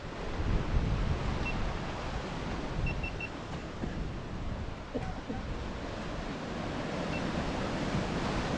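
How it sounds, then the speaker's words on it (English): Choppy sea and breeze at Sant Elm, Mallorca, in March: a continuous broad wash of surf and rushing wind buffeting the microphone, steady and fairly loud throughout, with no voices. "A little bit quiet today, a little bit breezy, and the sea's a little bit choppy."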